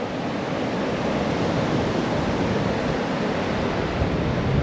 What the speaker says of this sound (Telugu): అలలు ఎన్నో వస్తున్నాయి చూడండి